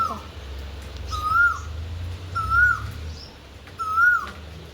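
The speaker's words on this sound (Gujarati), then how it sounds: "ધીમો ધીમો વરસાદ ચાલુ અને કોયલ બોલે છે." A koel calls three times at even intervals, each a clear rising-then-falling whistle, over a low background hum and faint patter of light drizzle.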